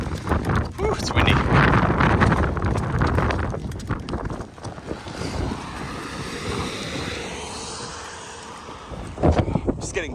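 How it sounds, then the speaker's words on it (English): Strong gusting wind buffets the microphone while someone walks along a track in worsening weather, a loud continuous roar with rustling and bumps, the wind rising and easing throughout. "Whew, it's windy."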